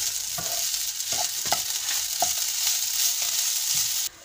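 Masala roasting in a pan for chicken samosas, a steady close sizzle broken by several scraping stirs of the spoon, alone with no talk, ending abruptly.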